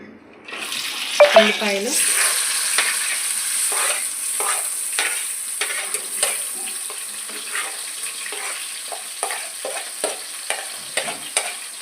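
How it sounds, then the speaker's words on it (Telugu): Onions and green chilies frying in hot oil in a kadai, a steady sizzle with repeated scraping and stirring clicks from a spatula, close and fairly loud, with no talking. "ఉల్లిపాయలు, పచ్చిమిర్చి కలిపి ఆయిల్లో మగ్గనివ్వాలి"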